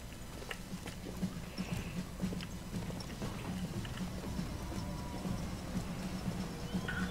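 Horse hooves clip-clop at a steady, moderately loud rhythm throughout in Bioshock Infinite, with an occasional faint whinny and game ambience behind.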